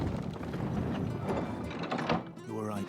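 Elevator door and lift mechanism in the video game Final Fantasy XVI, mechanical clanks and grinding gear rattles under a voice talking, closing with a deeper thunk and hum.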